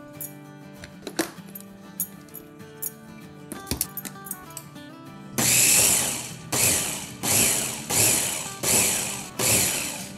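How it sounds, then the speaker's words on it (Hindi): An electric blender whirs through gram flour (besan) and water in short, loud, repeated pulses, about one per second, after a quieter stretch of kitchen clinks and hum. "तो चले अब इसमें हम थोड़ा सा पानी डाल के इसको ब्लेंड करेंगे।"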